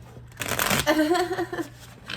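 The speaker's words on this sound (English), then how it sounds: "these shuffle great" New Rackham tarot cards being shuffled, a brisk papery riffle and slide of slippery fresh card stock lasting about a second, close to the microphone, with a faint low hum behind it.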